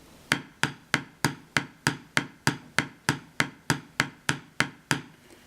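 Evenly spaced side drum strokes in steady eighth notes, about fifteen crisp, sharp hits with no accents, played alone at a moderate tempo in a beginner pipe band drumming exercise.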